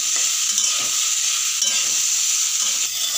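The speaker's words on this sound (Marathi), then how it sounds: "साधारण आपल्याला पाच मिनटाची भेंडी भाजून घ्यायची आहे चांगली जेणेकरून त्याचा चिकटपणा कमी होईल" Okra (bhindi) frying in oil in a pan, with a constant bright sizzle and occasional soft stirring scrapes, close and continuous with no talking.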